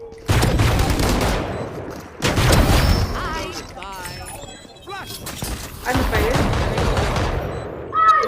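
Bursts of rapid gunfire in the video game Valorant erupt repeatedly, loud and close, in three main volleys, while voices talk between and under the shots.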